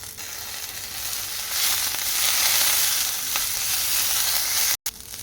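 Small bunch of fresh mint leaves sizzles in hot oil in a pan while making Telangana-style tomato chutney, a steady close crackle that swells briefly, then a sharp cut near the end.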